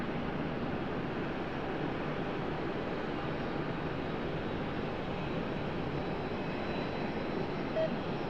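A Boeing 777-200 jet airliner departing RDU airport on a London Heathrow flight: a steady, loud, broadband engine roar that holds constant throughout, with no voices over it.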